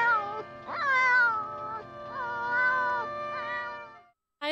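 A cat gives several long, drawn-out, wavering meows in close succession, loud and clear, with a short pause before a final cry begins.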